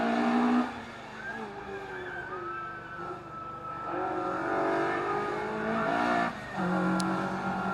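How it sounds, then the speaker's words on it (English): A little Peugeot 106 rally car is driven flat out on a night special stage at Mishnish Lochs. Its loud engine note climbs and falls through hard revs and gear changes, close by and continuous. "Ali Curry in the little Peugeot 106, pushing as hard as he can in the little car"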